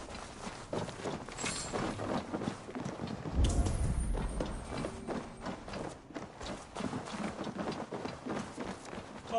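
A horse gallops with rapid, rhythmic hoofbeats in Assassin's Creed Valhalla, steady and close for several seconds, with a low thud partway through and no talk.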